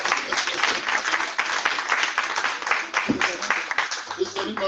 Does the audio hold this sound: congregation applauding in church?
yes